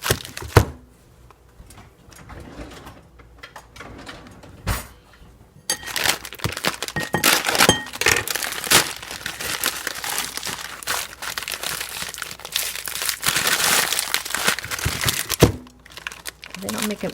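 A plastic package of carrot spirals is pulled and torn open up close, with loud crinkling and crackling bursts after a quieter start, while a person talks.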